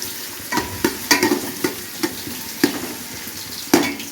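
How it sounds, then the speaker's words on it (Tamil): Onions sauté in a pan with a soft frying sizzle, punctuated by regular scraping and tapping strokes of a spoon stirring them, close and clear. "வெங்காயம் வந்து நல்லா ப்ரௌனாக வரணும் அந்த அளவுக்கு நம்ம வதக்கிட்டு தான் மற்ற பொருளெல்லாம் சேர்த்துணும்"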